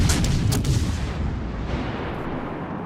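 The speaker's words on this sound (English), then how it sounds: "So we took another shot at the Bismarck, and we started another fire." Booming cruiser gun salvos fired at the Bismarck in World of Warships Legends, a few heavy close blasts at the start that roll into a fading rumble, no talking.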